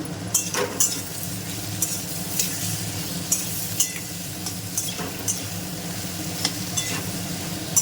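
Onion, salt and turmeric frying in a pan: a continuous bright sizzle with regular scraping and stirring strokes of a utensil against the pan, close and steady, no voices.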